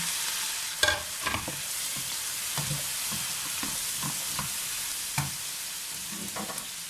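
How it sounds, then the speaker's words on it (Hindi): Tomatoes sizzle with lightly browned onions in a pan for a kofta kabab gravy. A steady frying hiss runs throughout, punctuated by a few sharp stirring clinks and scrapes. "अब ये टमाटर डाल के मैं इसको इतना पकाऊंगी कि टमाटर नरम हो जाए"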